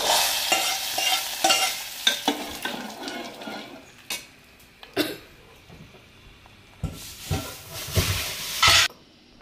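Tempering spices crackle in sizzling oil for a lentil soup in uneven bursts, with stirring scrapes and sharp spits; quiet gaps between the louder crackles.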